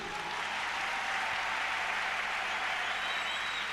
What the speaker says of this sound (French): Si tu le crois, acclame Jésus.